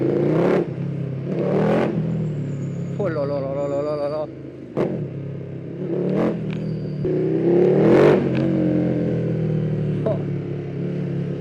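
A 2020 KTM 1290 Super Duke R motorcycle with an Akrapovic exhaust revs repeatedly, giving loud, deep, rumbling blips that rise and fall. A man exclaims excitedly over the engine.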